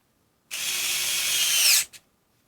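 TONE CHD221S USB-charged electric screwdriver running in reverse, a single steady motor whine lasting just over a second that stops abruptly, followed by a short blip, close and alone.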